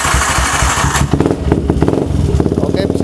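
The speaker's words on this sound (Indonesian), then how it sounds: "Oke, motor ini bisa nyala hidup." A Yamaha Vixion motorcycle with a charging fault, run on battery power, starts up and settles into a steady idle, its close, rhythmic engine pulses running continuously after a short burst of startup noise.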